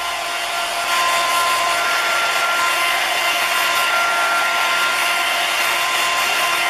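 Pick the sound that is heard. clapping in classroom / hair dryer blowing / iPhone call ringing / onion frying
hair dryer blowing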